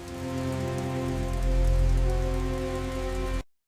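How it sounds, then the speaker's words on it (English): Steady rain drums against window glass in a dense, continuous wash, with a low droning hum underneath that swells in the middle and holds until the sound cuts off abruptly. "Rain slammed against the glass like it was trying to break in."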